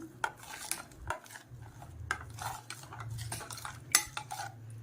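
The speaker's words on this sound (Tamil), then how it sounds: "தண்ணி ஊற்றி கலந்துடலாம்." A spoon scrapes and clinks against a metal vessel in steady stirring strokes as water is mixed into a fish curry, close by, with no talking.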